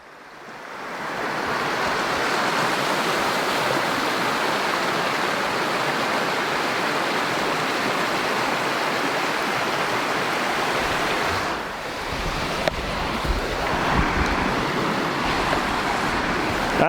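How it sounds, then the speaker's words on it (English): A river in Alberta wildflower country rushes steadily and loud in a broad, constant wash of water, close by and unbroken for the whole stretch, with a slight shift in texture near the end. "the river's just beautiful"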